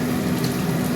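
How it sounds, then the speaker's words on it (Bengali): Water pours into a cooking pan holding poppy-seed paste for an omelette curry, a brief, steady, close rushing splash with no speech. "জলও দিয়ে দিলাম"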